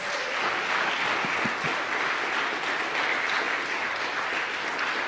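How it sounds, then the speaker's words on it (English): Steady applause from a crowd at a piano recital in a church, continuous clapping at even loudness throughout with no voices on top. "we'll give one more round of applause for our 430 class."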